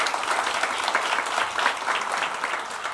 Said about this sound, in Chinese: 我们再次鼓掌欢迎他们三个主讲人。